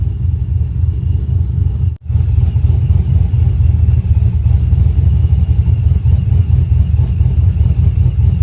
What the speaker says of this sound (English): So this is the natural sound of the camshaft.